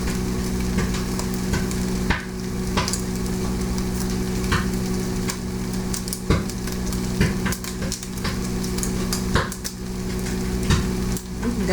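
Turkey bacon cooking in a microwave: continuous sizzling and crackling with scattered sharp pops throughout, over a steady low hum of the microwave running.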